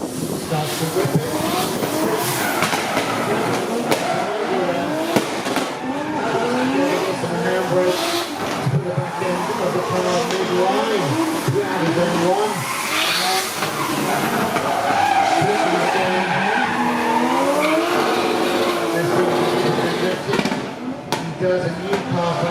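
Drift cars, including a Nissan 350Z, skidding through a qualifying round at a drift series event in Miri, Sarawak, with continuous loud tire squeal and sweeping engine revs that rise and fall, with a commentator talking over it.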